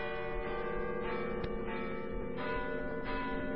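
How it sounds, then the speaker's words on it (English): Church bells ring out at midnight on Christmas, a soft, resonant pealing with a distant, sustained tone that carries on steadily and alone. "Listen, the bells."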